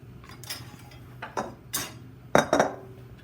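Stuffing mixture for a pork tenderloin filled with cheese and spinach is scooped into a bowl, with a few sharp close clinks and scrapes of a utensil against the dish, the last pair louder.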